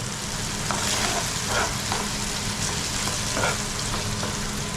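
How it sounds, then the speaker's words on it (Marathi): Tomato, onion, ginger, garlic and curry leaves fry together in hot oil with a steady, dense sizzle and occasional soft stirring sounds, heard up close and continuously without speech. "टॉमॅटो कांदा अद्रक लसूण कढीपत्ता सगळं एकत्र तेलामध्ये परतून घ्यायचं"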